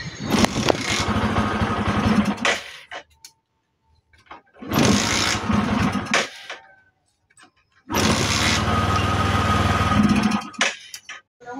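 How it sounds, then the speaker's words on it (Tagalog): A motorcycle engine with a misfire runs in three loud bursts with short quiet gaps between them, its idle rough and uneven with sputtering misfires, close by. "palyado nga yung motor ni boss"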